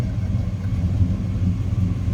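A 1972 Chevrolet Chevelle V8 with a mild cam idles through Flowmaster exhaust, a deep, steady, burbling low rumble heard up close and alone, with slight pulsing in the lope and no talking.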